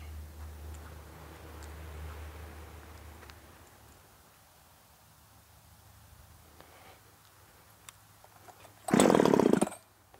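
Ported Shindaiwa 600SX chainsaw: a low engine idle fades, a few clicks and faint ticks follow, then a brief loud roar near the end as it revs, close by.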